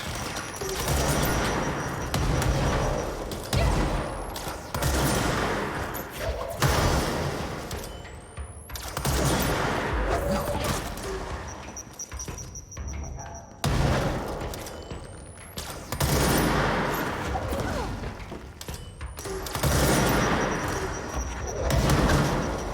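Gunfire from a weapon's alternate fire mode in the video game Control, with heavy booming bursts and thuddy impacts repeating in clusters across the stretch, loud and close, with brief pauses between volleys.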